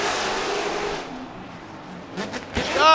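Nissan 370Z drift car in a Formula Drift run: a loud engine roar at first fades as the car moves away, then revving surges and a sharp burst return near the end, with a commentator talking over it.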